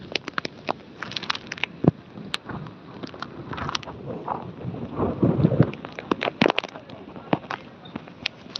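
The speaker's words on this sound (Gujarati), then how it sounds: "વરસાદ પણ ચાલુ છે અને પવન પણ છે" Rain patters steadily at a night fair in Porbandar, with sharp, irregular cracks and taps of drops hitting a surface, and gusty rumbling wind swells in the middle.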